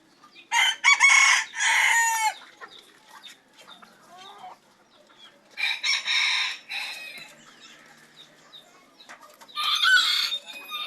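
Eight-month-old bantam roosters crow in three loud, drawn-out bursts, close to the listener, with softer clucking and bird calls in the gaps between them.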